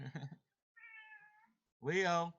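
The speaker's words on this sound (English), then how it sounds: "He's meowing. He wants my attention." A male house cat meows for attention in a clear, drawn-out cry between short bursts of nearby human speech, with a second louder, longer vocal sound at the end.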